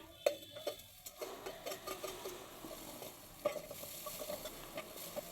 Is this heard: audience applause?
no